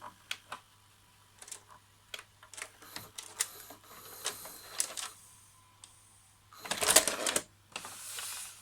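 A Daewoo DV-K260 VCR ejects a tape at close range with a run of small mechanical clicks and ticks, then a louder whirring, grinding burst as the mechanism moves near the end.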